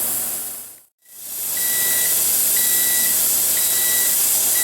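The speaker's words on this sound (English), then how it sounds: "Timer going off." A kitchen timer during pressure canning of white beans beeps in short, evenly spaced bursts over a steady hiss of steam after a brief dropout, loud and close with no talk.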